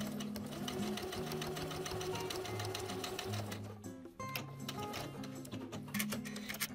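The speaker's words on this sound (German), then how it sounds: "nähe die Unterkante mit 10 mm Nahtbreite zusammen" A sewing machine stitches the lower edge of a jeans fly with a 10 mm seam, running loud and steady with a rapid mechanical ticking rhythm, briefly pausing near the middle before resuming.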